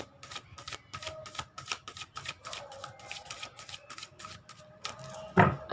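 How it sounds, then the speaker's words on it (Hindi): A deck of tarot cards is shuffled by hand, giving rapid, close, papery riffles and flicks in a quick irregular rhythm. A sharper bump sounds near the end, and nobody talks. "तो यहाँ पर मैं कार्ड को मिक्स कर लेती हूँ।"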